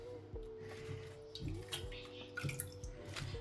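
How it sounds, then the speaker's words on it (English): Tap water runs and splashes as cabbage is rinsed for a Haitian legume, a continuous faint stream with irregular splashes and knocks in a sink. "So that you rinse the cabbage."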